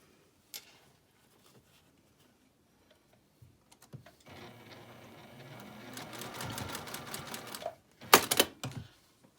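Sewing machine stitching a seam on a patchwork zipper pouch: after quiet, a steady mechanical whirring run builds for several seconds, then stops before a final short burst of fast stitches, close and alone.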